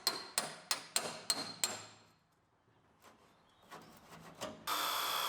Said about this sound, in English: I'll get a slightly bigger hammer,